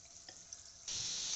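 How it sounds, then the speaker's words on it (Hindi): Chicken nuggets drop into hot oil in a kadai, and a loud, bright sizzle bursts in and holds steady after a quieter moment of faint kitchen background, with no talking. "अब हम अपने चिकन के नगेट्स इसमें डालेंगे।"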